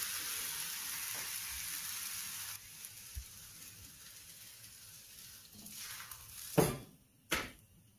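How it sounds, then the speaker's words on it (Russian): Thin red velvet pancake batter sizzles quietly in a frying pan, a soft steady hiss that thins out midway, followed by two sharp clatters of the pan or utensil near the end. "Выпекаем блины с обеих сторон по 1-2 минутки."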